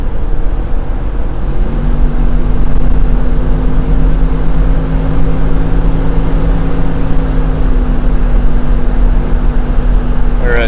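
1972 Buick GS Stage 1 cruising at 60 mph around 2,400 RPM, heard from inside: a steady, loud low engine drone with a sustained tonal hum and road rumble, briefly shifting near the end, no talk.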